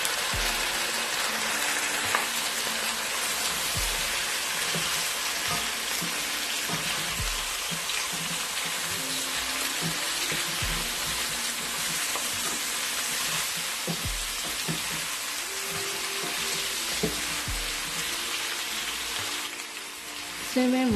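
Boiled goat head goes into oil that has been browned to a light golden stage in a pan, and a loud, steady sizzle of frying fills the whole stretch with occasional stirring knocks and a quiet voice.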